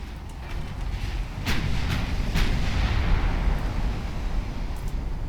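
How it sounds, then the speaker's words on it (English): Naval 5-inch gun fire in the Ultimate Admiral Dreadnoughts game during a cruiser duel: a steady low rumble with several sharp booms from firing and shell impacts, loud and sustained, with no talking. "That's a good hit with that 5-inch gun on the Massey."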